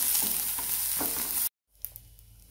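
Onion frying in a pan while making egg curry, a steady dense sizzle for about a second and a half, then a sudden brief silence before softer frying resumes with a small clink.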